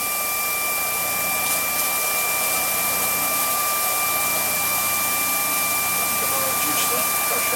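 Coolant pump running on a milling machine, a loud steady hiss and whine with constant hum tones, close and unbroken.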